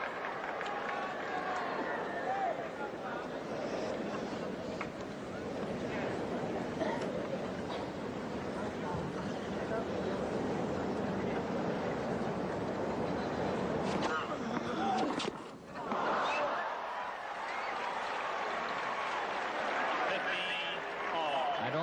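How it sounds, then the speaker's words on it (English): Crowd at the 1980 US Open tennis final between Connors and McEnroe roars and chatters loudly and continuously, a broad wash of noise with a brief dip before surging again. "McEnroe missed the volley, and the crowd's going crazy"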